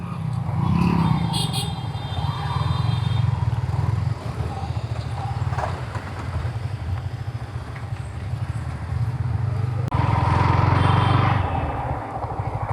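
Motor vehicles moving along a road, passing close behind with a steady rumbling drone that rises and falls, with a brief high horn-like tone early on.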